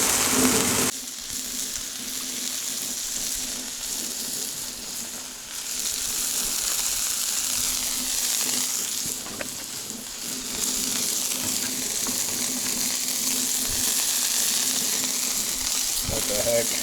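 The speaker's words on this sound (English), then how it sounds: "I'm going to saute up some mushroom." Mushrooms sauteing on a Blackstone griddle, a bright, steady sizzle and crackle, close and loud, with brief scraping stirs partway through and no talk.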